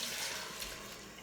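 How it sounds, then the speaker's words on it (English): Whisked gravy-like sauce for beer chicken poured into an Instant Pot, a brief liquid splash and trickle that fades slightly toward the end, heard alone with no voices. "So then I'm going to pour it into the pot,"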